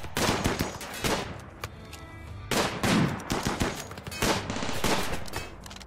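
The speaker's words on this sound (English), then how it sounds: "Oh, there's the one assault rifle." Assault rifle fire in the Rimworld video game comes in several loud, rapid bursts of crackling shots. The bursts overlap with short gaps between them and sound close, with no talk.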